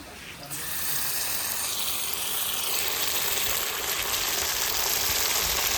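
Ground spice paste of cumin, garlic, ginger, dried chilli and coriander sizzles with browned onions in a pan for chicken curry, a loud, steady hissing fry that swells just after the paste goes in.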